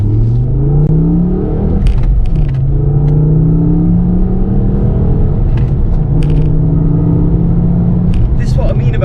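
A Ford Focus ST2's 2.5-litre turbo five-cylinder engine pulls hard from a standstill, its rising exhaust drone climbing through gears with brief shift breaks, while a person talks over it.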